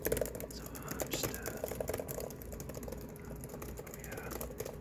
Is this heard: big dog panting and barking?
no